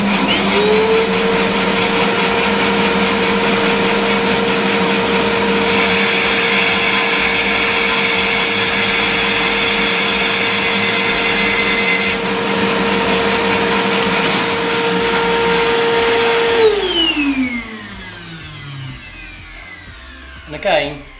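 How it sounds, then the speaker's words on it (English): A 14-inch SIP Professional bandsaw runs steadily, cutting a 45-degree mitre in wood with the mitre slide set. A loud continuous motor whine and blade hum holds for about seventeen seconds, then winds down as the saw coasts to a stop. "We can then bring this in, start the saw"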